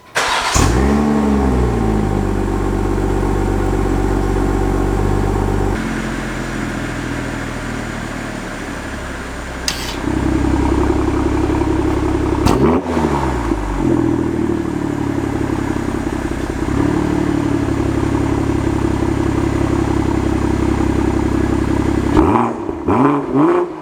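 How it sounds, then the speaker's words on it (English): A 2022 BMW X3 M40i engine cranks and fires up loudly, then settles into a deep, throaty idle with a few sharp revs from the sport exhaust before a final blip. "let me start up the car. You guys can hear the noise when it starts up"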